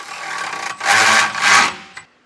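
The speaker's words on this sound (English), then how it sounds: "follow up behind with our powered ratchet" A powered ratchet snugs up a bolt on an Aries TrailChaser front bumper, running in two loud, close bursts of buzzing, rasping mechanical whir with a short click afterward.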